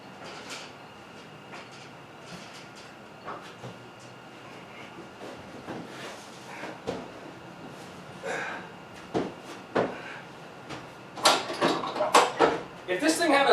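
An overhead hoist raises a removed Jeep JK soft top from a 2015 Wrangler up to a garage ceiling, giving a steady mechanical whir with scattered clunks and rattles that grow louder toward the end, while a person talks nearby.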